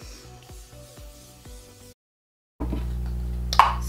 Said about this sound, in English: I like to hit my face with a little bit of setting spray to set all these powders in